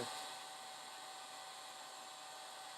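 A hair dryer blows steadily to dry watercolor paint on a canvas, a constant close whooshing hum with a faint whine that holds level throughout and has no voices over it.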